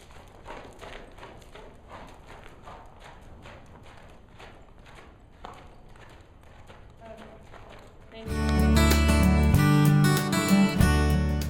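Horse hooves cantering during two-point (half seat) riding, a steady rhythmic clip-clop of beats for several seconds before loud music takes over.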